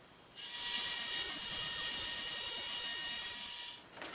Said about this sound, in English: make a mark and cut right down the center at a 45-degree angle so you end up with 2 pieces